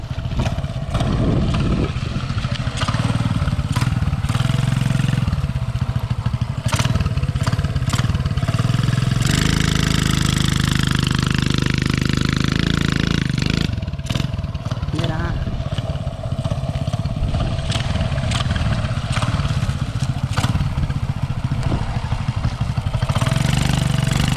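A motorcycle engine throbs loudly and close as the bike is pushed up a slope, idling with a steady low rumble and swelling into a sustained rev in the middle before settling back, with someone talking over it.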